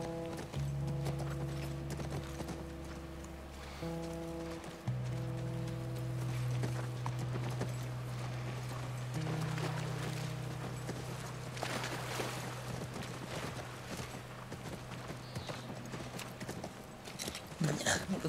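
A horse's hooves clip-clop steadily in The Last of Us remake, a rhythmic trot heard under sustained musical tones and game ambience, with someone talking over it at times.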